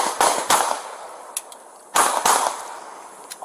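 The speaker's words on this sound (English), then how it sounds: "Shots fired." Gunshots ring out during a police shooting on the I-75 roadside, a few sharp, loud cracks spaced apart, with fainter pops in between and no talk.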